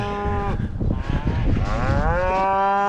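Cattle moo loudly and repeatedly in wet snow, cows calling for their calves, long drawn-out calls overlapping one another close by, with no talking.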